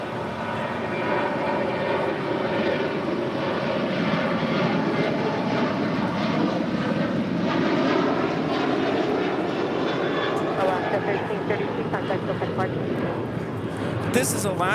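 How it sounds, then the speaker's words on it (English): An Alaska Airlines Boeing 737-800 in special livery departs for Loreto with a sustained, loud jet engine roar whose whining tones rise and shift as it climbs away, with talk over it. "This is Alaska Airlines Flight 1332 departing to Loretto on the 737-800 in the Hot Kawani livery"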